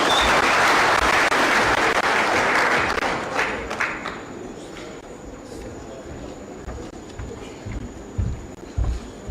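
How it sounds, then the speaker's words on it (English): Loud crowd applause that swells at the start, then thins into scattered clapping and fades over several seconds. "A better hand of applause."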